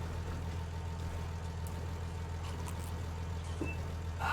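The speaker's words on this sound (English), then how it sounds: "Can you hear the engine in the background as well?" A tractor engine idles in the Farming Simulator video game, a steady, low, faint hum that stays even throughout with no talking.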